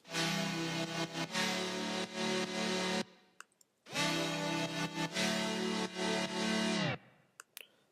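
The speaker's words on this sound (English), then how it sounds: "the last sound we're going to have to freeze is this super wide sound right here" A super wide synthesizer patch plays two long, dense, buzzy sustained chords, each about three seconds, separated by a short gap with faint clicks; loud and alone with no talking.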